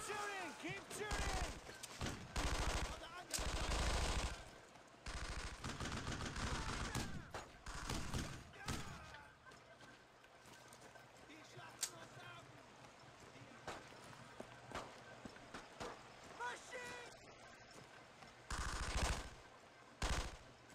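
Dense bursts of machine gun fire and rifle shots from a World War II squad battle in Brothers in Arms: Road to Hill 30 on the original Xbox, loud and repeated through the whole stretch, with shouted voices mixed in.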